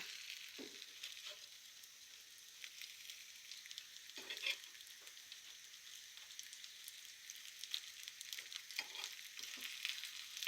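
Eggplant slices fry in a pan as they are turned over one by one, a steady soft sizzle with faint scattered taps and scrapes, nobody speaking.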